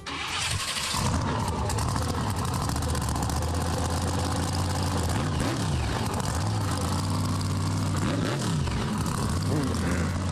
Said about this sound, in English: Adam's stepping inside the truck, and he's going to rev up his engine.